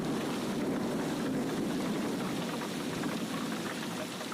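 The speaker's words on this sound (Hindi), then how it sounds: "पता नहीं इस बारिश को भी आज ही क्यों होना था।" Steady rain falls in a continuous, even hiss of drops on surfaces, moderately loud and unbroken, with no voices.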